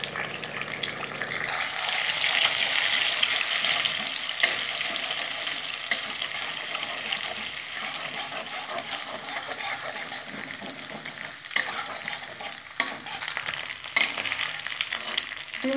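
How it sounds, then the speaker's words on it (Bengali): Eggs scramble and fry in a pan for egg pasta, a steady close sizzle with occasional scraping and stirring clicks throughout, no talking. "ডিমটা ভুজিয়া করে নেব।"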